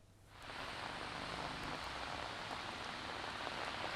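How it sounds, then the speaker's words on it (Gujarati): Heavy rain pours down in Gandhinagar, starting quietly and then swelling to a dense, steady roar that holds for the rest of the stretch, with no voices. "ગાંધીનગરમાં ગાજવીજ અને તેજ પવન સાથે વરસાદનું જોર વધુ જોવા મળી રહ્યું છે"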